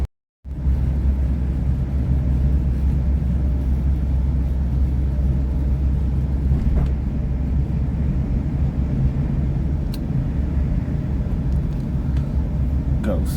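Steady low rumble inside a South Western Railway class 444 train rolling toward Waterloo, a continuous dense drone with faint rattles and occasional clicks throughout, with no talk.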